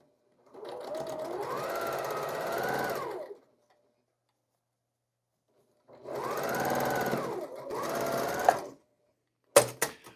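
A sewing machine stitching quilt seams runs in two short bursts of rapid, steady mechanical whirring, each a few seconds long with a pause between, then ends in a couple of sharp clicks.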